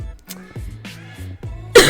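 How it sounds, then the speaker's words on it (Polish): Several strong coughs in a row, close and loud, with short hoarse bursts and breathy gaps between them, ending in a sharper louder burst. "przepraszam was za te kaszlnięcie mocne"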